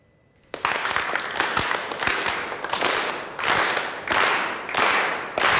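An audience claps together in rhythm, a burst of dense applause starting abruptly and pulsing in repeated waves of loud, close hand claps, with no talking over it.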